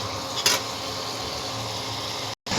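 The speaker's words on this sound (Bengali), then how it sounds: "মশলাটা একটু কষবো যতক্ষণ না মশলাটা একটু ঘন হয়ে যাচ্ছে" Spice paste for a jackfruit curry cooks in a pan with a steady, dense sizzle that runs throughout, broken by a brief louder scrape near the start and a short dropout near the end.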